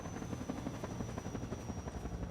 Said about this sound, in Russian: вертолеты у них стильные